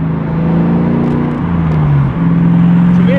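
A 1985 Volvo 740 fitted with an LS6 V8 engine runs nearby, a loud, deep, steady engine drone with a slight dip in pitch as it settles, then holds an even rumble.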